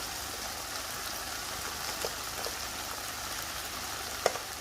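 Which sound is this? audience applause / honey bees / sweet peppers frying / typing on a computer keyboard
sweet peppers frying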